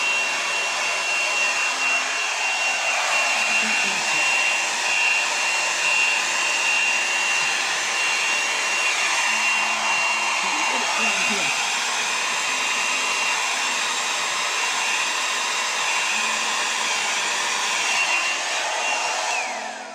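A hair dryer blows steadily across wet acrylic paint in a Dutch pour, its continuous whirring airflow close and loud for the whole stretch, with no talking.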